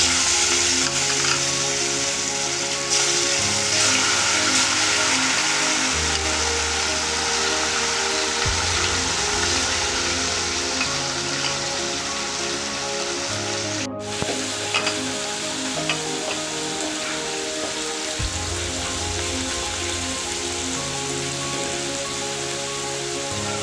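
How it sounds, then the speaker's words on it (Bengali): Salted, turmeric-rubbed fish fry in hot oil in a kadai, giving a loud, steady crackling sizzle that runs unbroken with occasional sharper spits and pops, with no talking. "মাছগুলোকে ভেজে নেব।"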